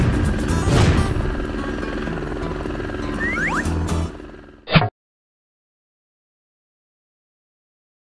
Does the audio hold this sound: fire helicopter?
yes